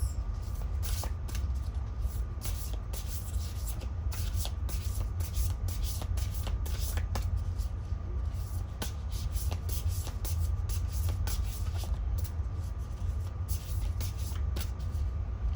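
Oversized tarot cards are shuffled steadily and continuously nearby, a dense papery riffling and flicking that runs throughout at moderate volume.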